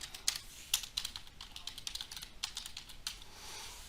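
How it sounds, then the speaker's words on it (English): Close, quiet clicking of a computer keyboard as an address is typed, quick irregular keystrokes in short bursts with no voice over them. "So I type in the address"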